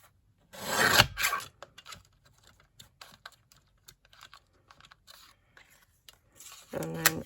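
A small paper guillotine slices through paper: a short, crisp cutting swish near the start and another brief sharp cut near the end, with faint handling taps in between, quiet and close.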